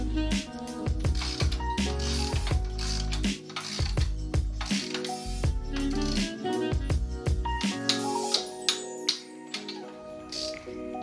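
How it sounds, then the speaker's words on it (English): A torque wrench tightens crash cage bolts on a 2014-2020 Yamaha FZ-09 motorcycle, with busy, continuous ratcheting and metallic clicking up close, a few sharper clicks near the end, and no voices. "I'm pretty sure the torque wrench it to 35 pounds of torque, and that's for each screw and bolt."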